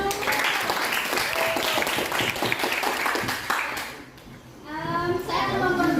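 Children and a teacher clap together in a classroom, a dense burst of applause lasting a few seconds, then fading briefly before more voices and clapping return, with talk mixed underneath.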